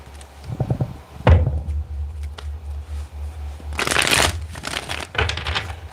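Tarot cards shuffled by hand in a few bursts of crisp riffling, with a loud cluster near the end, over a steady low hum.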